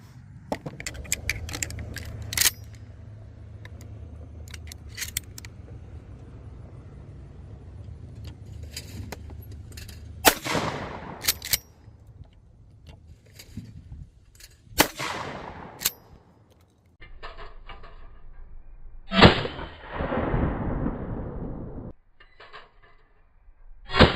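A Remington 870 Express 28 gauge pump shotgun fires at clay targets outdoors, giving about half a dozen sharp, loud reports spaced several seconds apart, with mechanical clicks and clatter between shots.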